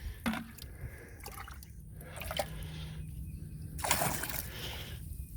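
Water is poured out of a fish trap container in quiet splashes, drips and sloshes, with a few sharper splatter bursts amid a soft continuous trickle.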